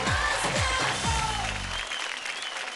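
A TV dance show audience bursts into loud applause and cheering that holds strong, then thins and fades toward the end, with no talking over it.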